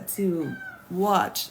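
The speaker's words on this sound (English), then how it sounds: "I'm sorry, that's my cat again." A house cat meows twice nearby, two drawn-out rising-and-falling cries a moment apart, with a few spoken words heard just before.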